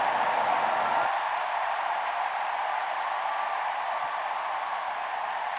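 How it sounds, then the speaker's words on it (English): Broad, even applause from a large audience at the World Peace Summit in a hall, sustained and steady for several seconds with no voices over it. "Please give another great round of applause."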